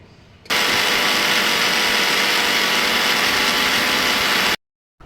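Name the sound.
blender grinding spice paste for pointed gourd dish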